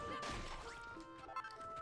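Rocks being smashed in the Dragon Quest Builders game, a quick cluster of crunching hits at the start followed by a sharp smaller knock, set against soft tonal game music.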